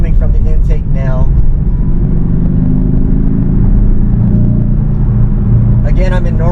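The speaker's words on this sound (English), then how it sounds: "Now I hear a lot more coming from the intake now." Porsche 718 Cayman flat-four turbo fitted with a RaggDoll Motorsports turbo inlet and BMC filter, driven in normal mode: a steady loud engine and intake drone with road rumble, with talk at the start and again near the end.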